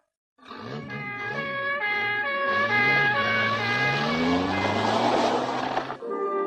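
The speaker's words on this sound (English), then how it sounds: "with sirens blaring full blast, the two cars speed off to the Alberts' home" Two cars speed off with sirens blaring full blast, a loud, continuous wailing siren over a rising engine roar that fills the scene for several seconds.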